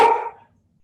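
A puppy gives a single short, sharp bark up close that decays quickly into quiet, heard alone.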